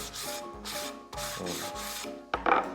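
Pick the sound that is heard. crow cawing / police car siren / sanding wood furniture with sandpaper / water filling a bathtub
sanding wood furniture with sandpaper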